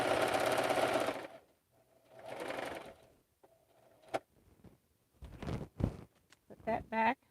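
A quilting sewing machine runs in bursts of fast stitching, close and loud, separated by pauses filled with clicks and handling noises and brief talk.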